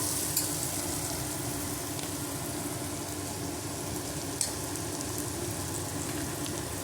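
Ginger garlic paste fries in a pan for a chicken gravy, a continuous close sizzle with a low rumbling undertone and two brief utensil knocks, no voices.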